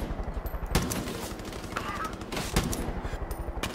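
An assault rifle in the Far Cry 5 game fires several sharp, loud shots in quick bursts over a rapid rhythmic background clatter.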